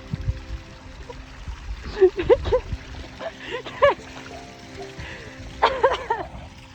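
Water trickles and splashes in uneven spurts, with a voice and small squeals rising over it now and then.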